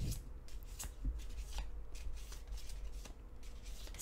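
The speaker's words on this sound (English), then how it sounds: "I'm gonna choose three oracle cards for each pile in part." Oracle cards shuffled and picked by hand, a steady run of soft papery riffles and light slaps, close and quiet, with no talking.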